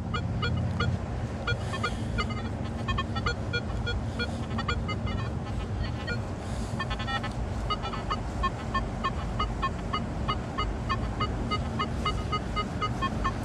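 A Nokta Makro Legend metal detector sounds a string of short electronic beeping target tones at a park, repeating over steady outdoor noise like wind or distant surf, with no talking.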